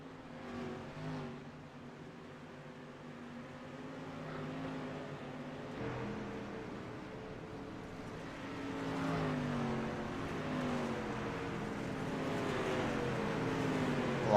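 Several street stock race cars in the iRacing game drone and rev together on track, a steady layered engine hum that swells gradually louder over the stretch, with no voices.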